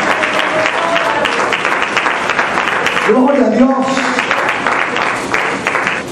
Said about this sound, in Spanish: denle ese aplauso fuerte a Jesús de Nazaret